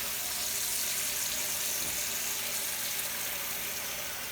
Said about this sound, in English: I'm just gonna wash your hands again because she's touched raw egg